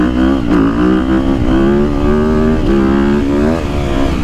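A 2022.5 KTM 250SXF Factory Edition motorcycle engine on map 2 revs loudly and close, its harsh buzzing note rising and dipping in quick throttle blips with no pause.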